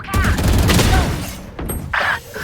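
Rapid bursts of video game gunfire crackle loudly in quick succession, followed by a few sharper shots and a short ringing effect.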